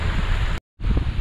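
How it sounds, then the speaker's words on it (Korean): Strong wind buffets the microphone during a rainy motorcycle ride, a loud steady roar broken by a brief dropout of silence before the rushing noise resumes. "바람 많이 붑니다."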